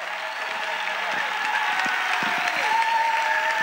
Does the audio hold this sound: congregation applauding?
yes